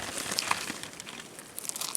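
A plastic bag being crumpled and crinkled outdoors on a rockhounding trip in California, giving a steady run of faint, close crackling rustles for about two seconds with no talk.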